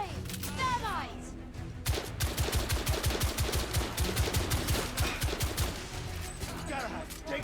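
Rapid gunfire rattles in The Order: 1886, including a thermite rifle, with dense bursts of shots under and between voices, loud and sustained through most of the scene before easing off near the end.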